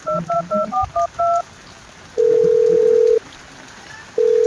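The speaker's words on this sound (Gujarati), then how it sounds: "રાતે ઓલા કાતરોજીને ફોન કરું" A telephone is dialed in a Gujarati comedy scene: a quick run of about eight clear keypad tone beeps, followed by two long, steady electronic tones separated by a pause.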